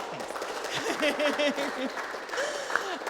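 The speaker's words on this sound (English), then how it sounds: "can we applaud for Karen too?" An audience claps for a colleague named Karen, a steady wash of applause lasting a few seconds, moderately loud and close, while a voice says a brief word of thanks over it.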